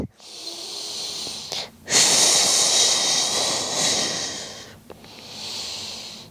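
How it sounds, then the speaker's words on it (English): Heavy nasal breathing during a yoga plank-setup pose: two long, loud, airy exhalations separated by brief sharp inhales, close to the microphone. "Breathing here for 2 more breaths."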